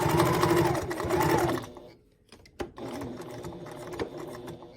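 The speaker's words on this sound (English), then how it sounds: "I'm using my Janome HD9, love this machine." A Janome HD9 sewing machine stitches a label onto a bag, its fast mechanical whirr running steadily, pausing briefly, then resuming with lighter clicks and stitching.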